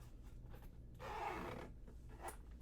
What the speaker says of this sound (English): you see here how it zips around for easy access to everything in the pocket like that